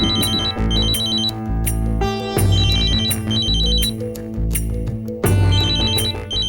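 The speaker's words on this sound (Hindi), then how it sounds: "अरे सिमर, कब से फोन बज रहा है, उठाते क्यों नहीं बेटा?" A phone rings with repeated, high electronic trilling bursts, sounding loudly over a steady dramatic music backing.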